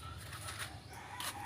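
Pet chickens, including small bantams, cluck and a rooster crows on a farm, a short moderately quiet burst of fowl calls with no talking.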